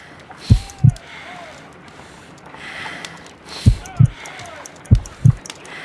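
Low, muffled double-thump heartbeats in the Sherlock Holmes: Crimes and Punishments video game, three lub-dub pairs at an uneven, slow pace over a soft background hum.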